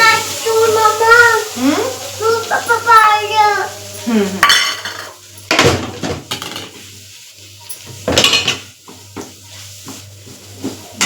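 A pot of vegetables with turmeric being mixed by spoon, giving a few sharp scraping clatters against the metal pot after a stretch of voice at the start.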